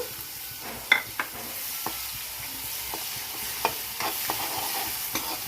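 Chopped onions frying in oil with curry leaves, a steady low sizzle broken by several sharp scraping stirs of a spoon against the pan, with no voices.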